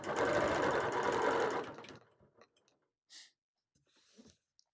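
A sewing machine doing free-motion ruler quilting runs in a loud, steady burst of rapid stitching for about two seconds, then stops, leaving only faint breaths and small scattered noises.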